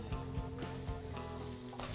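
Leeks fry in a hot pan, giving a faint, steady sizzle with light irregular crackles throughout and no talking.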